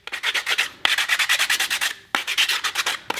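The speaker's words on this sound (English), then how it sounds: "just give it a rub like this with the sandpaper back and forward" Sandpaper rubbed briskly back and forth over a wooden block from a snowman character building kit, a steady run of close scratchy strokes in three bursts with short pauses between.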